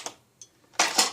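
Click of an Xplorer XZeus blaster catching as it is primed with a 20 kg spring: a faint tick, a brief pause, then a louder, sharp mechanical snap, close up.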